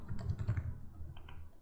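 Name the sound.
typing on computer keyboard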